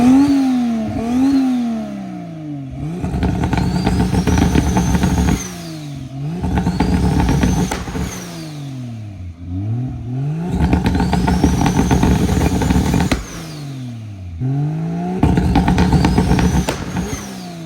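A high-mileage Jeep Cherokee XJ driven along a dirt road, its engine revving up and easing off in repeated surges with gear changes, loud and close, with rattling clatter over the drone.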